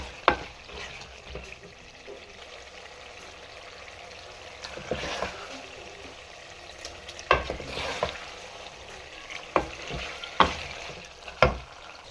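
Aloo anda matar curry cooks in a pan with a steady soft sizzle, while a spoon stirs and scrapes through it at intervals, leaving several sharper knocks against the pan.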